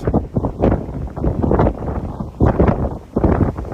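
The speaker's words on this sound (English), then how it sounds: "Windy out here." Strong wind buffets the microphone on the open deck of the Royal Caribbean cruise ship Odyssey of the Seas, coming in loud, low, uneven gusts with no talking.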